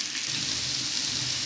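Sliced onions frying in hot oil with popped mustard seeds give a steady, close, hissing sizzle that holds evenly throughout without a break.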